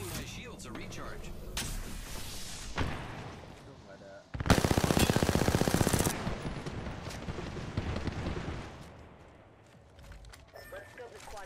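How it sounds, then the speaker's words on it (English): Automatic gunfire from the battle royale game Apex Legends crackles in bursts, with a loud sustained stretch of rapid fire midway over ongoing game sounds. "Getting shot at."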